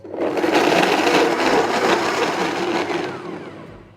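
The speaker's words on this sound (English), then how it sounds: "So let's blend this up, get it nice and smooth." Blender running at full speed on vegan parmesan cheese ingredients, a loud continuous whirring roar with a dense gritty texture, steady throughout and easing slightly near the end.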